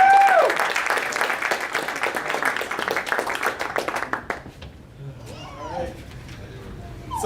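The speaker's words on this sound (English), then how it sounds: "let's give one more warm round of applause to class 21010" Crowd applause for a graduating class at a UCT graduation ceremony, dense clapping with cheers for about four seconds before fading into quieter room sound and faint voices.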